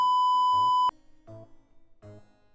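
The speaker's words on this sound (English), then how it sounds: "I hope the beeps are coming across." Censoring bleep tone from a comedic horror game voiced dialogue: one loud, steady sine beep lasting almost a second, followed by quieter bursts of talk.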